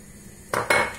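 A single egg is beaten in a salad bowl, heard as two close, bright clinks of utensil against the bowl following a quiet moment.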